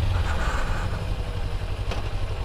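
A motorcycle engine rumbles steadily up close during a beginner's riding practice, its low drone holding even through a gear change, with a faint clack partway through.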